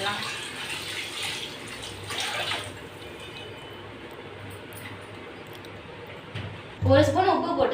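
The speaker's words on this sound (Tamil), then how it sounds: "தண்ணி சேர்த்துக்கலாம்." Water added from a tap or jug into a biryani pot with soaked seeragam samba rice and mutton, a continuous rushing pour heard under a person's speech, with louder talk resuming near the end.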